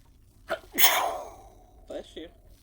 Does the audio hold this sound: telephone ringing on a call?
no